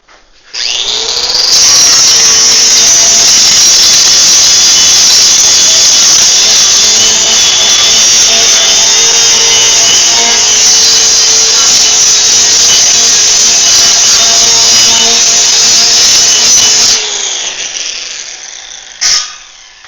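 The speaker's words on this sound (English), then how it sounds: "So that corner's got to be grinded down just a bit more." Angle grinder grinding down a steel corner on a 5x10 trailer frame being built, a loud, steady high-pitched whine running for about fifteen seconds before spinning down, heard alone without talk.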